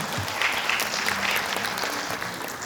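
Steady applause from the audience at an academic memorial conference at Dongguk University after a lecture, a full, even wash of clapping from a seated crowd throughout.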